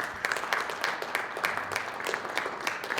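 An indoor audience at a veterans event applauds service officers with a steady, dense patter of many hands clapping at moderate loudness, and no talking over it.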